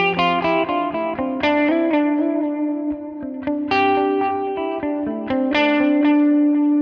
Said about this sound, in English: those delay repeats are a little more separated and don't get washed out by the reverb